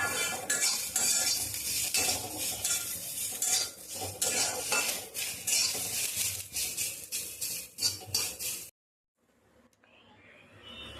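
Onions roasting in a pan for chicken rassa, stirred with a metal spoon in repeated clattering scrapes over a soft sizzle, close and busy, before the sound cuts to near silence and a faint hiss.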